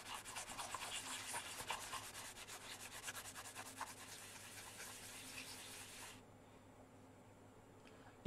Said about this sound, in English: so I have to use a sandpaper to remove the wax.